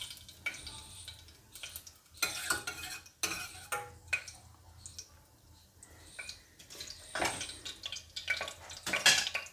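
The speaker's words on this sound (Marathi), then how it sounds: "चला तर आता तांदूळ आपल्याला छानपैकी परतून घ्यायचं थोडंसं।" Rice being sautéed in ghee with cloves and cinnamon, stirred in bursts of spatula scraping against the pan over a faint sizzle, with quieter pauses between strokes.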